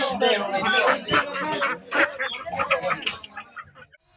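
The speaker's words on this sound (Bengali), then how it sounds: "হাঁস।" Ducks and other fowl at a village home quack and cluck in a dense, busy chorus close by, with people's voices mixed in.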